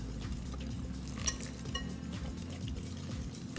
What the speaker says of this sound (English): As you're whipping that, I'm gonna pour in some of my cream.